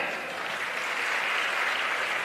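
A large crowd at a Maratha reservation rally in Nanded applauds with a dense, steady wash of clapping that stays loud and even throughout.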